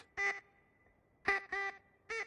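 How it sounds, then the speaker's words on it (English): A duck call in The Grand Tour video game gives four loud, nasal quacks: a single honk, a pause, two quick quacks close together, then one more. "It's a bird call. It's a duck."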